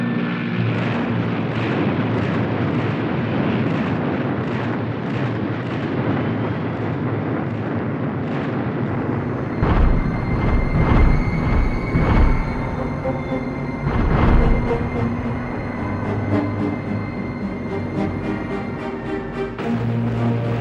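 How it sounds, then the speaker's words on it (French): Allied bombers pound German positions during the Normandy landings, with a loud continuous aircraft engine roar and deep rumbling blasts that swell and fade, dense and close, no talking. "les bombardiers alliés commencent à pilonner les positions allemandes dans tous les secteurs du débarquement"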